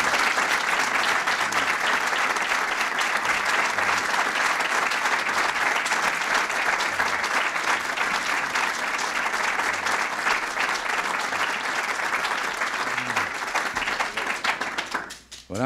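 Sustained audience applause at a presidential bill-signing ceremony for a housing and community development act, honoring Secretary Pierce; dense, steady clapping from a large crowd that holds for about fifteen seconds, then fades out abruptly at the end.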